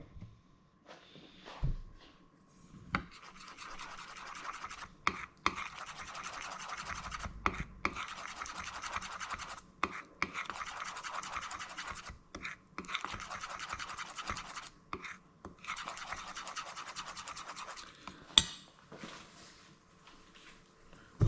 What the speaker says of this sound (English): Now I'm just going to give it a good stir.